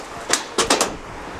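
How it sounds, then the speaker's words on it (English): A heavy Rolls-Royce shifting on its suspension gives a few short, sharp creaks in quick succession, close and distinct against a quiet background. "Listen to that creaking going on."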